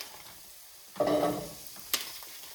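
Pumpkin pieces drop into a pan of hot garlic, setting off a sudden burst of sizzling that eases into a steady fry, followed by a short sharp clink.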